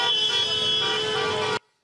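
Car horns blare in a dense, sustained chorus as celebrating football supporters drive through the streets, loud and continuous before cutting off abruptly.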